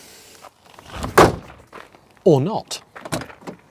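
The rusty driver's door of a Proton Saga Iswara opens and falls off, giving a close, heavy metallic clunk and scraping thud between bits of a man's speech.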